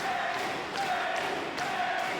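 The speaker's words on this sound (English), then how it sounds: "Listen at the crowd. They love Eddie Kingston." A wrestling crowd roars at a professional wrestling event, a dense, steady wash of distant cheering and shouting that fills the arena without a break.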